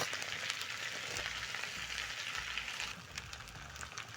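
Bread toasting in a hot pan for a grilled cheese sandwich, with mozzarella added, gives a steady close sizzle and crackle throughout, easing slightly toward the end.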